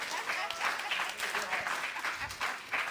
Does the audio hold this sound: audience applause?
yes